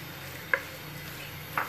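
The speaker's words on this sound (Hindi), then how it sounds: "कढ़ाई में मैंने लिया हाफ कप ऑयल मैं इसमें प्याज डाल दूंगी" Onions going into half a cup of hot oil in a kadai make a steady soft hiss, broken by two brief sharp clatters, close and moderately loud, with no talking.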